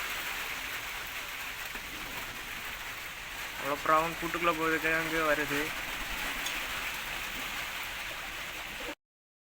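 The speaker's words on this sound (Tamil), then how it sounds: "இப்போவும் மழை தான் பெஞ்சிட்டு இருக்கு." Rain falling around a pigeon loft, a soft steady patter under a man's speech throughout.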